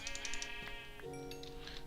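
A sheep in Minecraft bleats with a wavering, nasal cry amid light clicking like keyboard taps, fairly faint and close.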